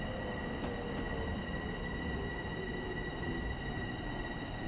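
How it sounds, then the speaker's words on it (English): A Long Island Rail Road train runs in Train Simulator Classic, a steady, continuous low rumble of the moving train with faint sustained tonal whine on top and no talking. "Well, I'm sure they can see me. It's a train. It's large."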